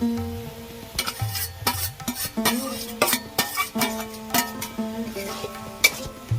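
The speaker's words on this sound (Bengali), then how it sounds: "ডিমগুলো দিয়ে আমি ভালো করে এইভাবে সব জায়গায় নাড়াচাড়া করে নেব" A spoon stirs fried egg into cooked bottle gourd in a pan, a run of repeated scraping and clinking strokes over a faint sizzle, close and fairly loud, with no talking.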